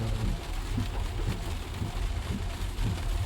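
Heavy rain falls steadily during a landslide hold-up on the Kasol to Mandi road, heard as a dense, even hiss with faint low rumbles underneath and no speech.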